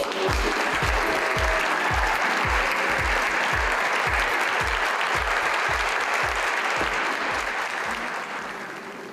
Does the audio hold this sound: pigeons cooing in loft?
no